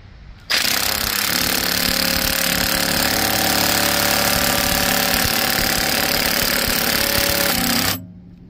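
An impact wrench hammers at a bolt on a locked-up Ford 4.0 SOHC V6 engine in one loud, continuous rattling burst lasting about seven seconds, then cuts off sharply.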